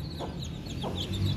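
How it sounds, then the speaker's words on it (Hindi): An Aseel hen clucks softly beside her small chicks, with a few short, quiet clucks and faint peeping over a low background. "ये रही हमारी असील मुर्गी"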